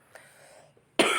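A single sharp, close cough bursts out abruptly after near silence, from a teacher giving a Quran recitation lesson.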